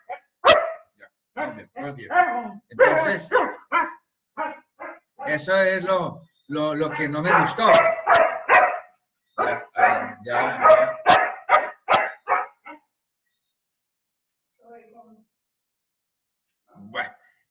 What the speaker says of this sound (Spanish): se queda ladrando y ladrando y no me deja transmitir, haciendo bulla y ladrando, pidiendo